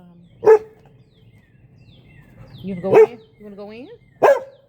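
A dog barks three times, spaced apart, close by, while a person speaks to it between the barks.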